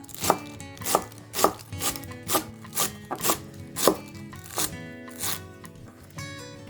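A chef's knife chops herb stems on a cutting board for chicken tostadas with salsa verde, about a dozen crisp, evenly spaced thunks at a steady rhythm, close and clear with no talking.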